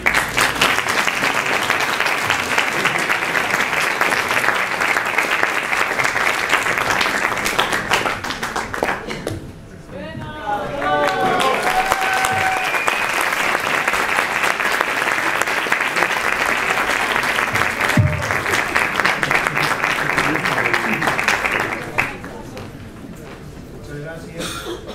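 Loud, sustained audience applause for a singer-songwriter at a university recognition ceremony, with a brief lull midway where a voice speaks, then clapping resumes strongly before fading near the end.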